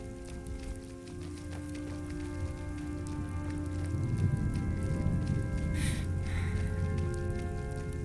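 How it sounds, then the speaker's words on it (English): Rain falling in the Skyrim video game, a steady, soft patter that swells slightly midway and continues alone under faint background game sounds. "Even though it's just raining, but okay, video game."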